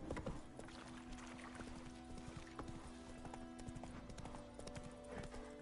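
Horse hooves in The Witcher 3 clip-clop at a steady trotting rhythm, close and clear, continuing throughout the few seconds.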